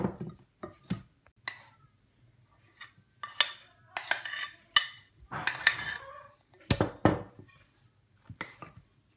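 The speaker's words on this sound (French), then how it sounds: "je vais incorporer les blancs en neige petit à petit" A spatula folds whipped egg whites into vanilla cake batter in a mixing bowl, giving soft scrapes broken by sharp utensil clinks and taps against the bowl, close and irregular, with no talking.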